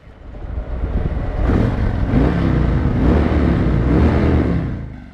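A motorcycle with a stock exhaust revs up and holds a loud, rough, throaty engine note for several seconds before easing off, close by with no talk.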